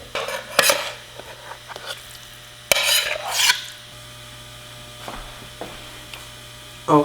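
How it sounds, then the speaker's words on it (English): A spoon scrapes and clinks against a baking pan as macaroni and cheese is scooped in, a few close bursts of metal-on-dish clatter separated by quiet gaps over a low hum. "Alright, I'm just going to spoon it in to start."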